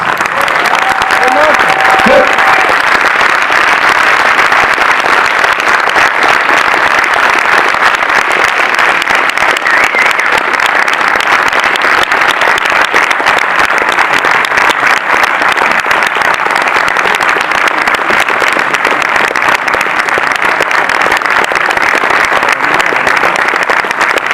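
An audience at a film debate applauds a guest coming on stage, dense sustained clapping filling the room, loud and even for the whole stretch, with a brief voice near the start.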